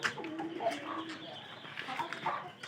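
Soft, low cooing from pigeons pairing up in a loft nesting spot, a steady murmur of coos close by with faint rustles.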